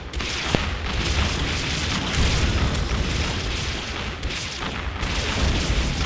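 A target in an RTS game is blown up, a dense, loud, rumbling roar of blasts that runs continuously with a few sharper pops inside it.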